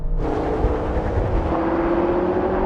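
Engines roar in a drag race between an Audi RS6, BMW M5, Mercedes-AMG E63 and Porsche Panamera, a loud sustained drone with a rising whine as the cars accelerate hard, heard close from inside one car.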